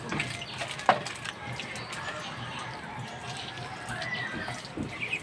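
Water poured over a dog during a bath, splashing and trickling steadily, with a sharp drip or splash near the start and light dripping throughout, close by.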